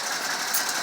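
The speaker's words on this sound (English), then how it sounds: "The muffler's noisy. The muffler's not that quiet." ATV engine running through a cheap Chinese-made eBay muffler, a brief loud buzzing drone with a rough, raspy exhaust tone, steady over the short moment with no talk.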